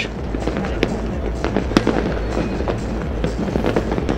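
Dense, loud New Year's Eve fireworks explode over a capital city without pause, sharp bangs and crackles overlapping in a continuous barrage with no voices.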